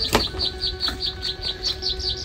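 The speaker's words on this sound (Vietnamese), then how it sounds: "Đây chim hót nghe hay quá nha" A bird repeats a bright, high chirping phrase in a steady rhythm, fairly close, over a faint background hum with one sharp tap near the start.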